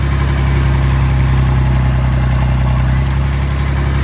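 A low, steady engine of an IH Farmall 560 tractor drones with a throbbing rumble, lugging under load at a constant pace without any voices.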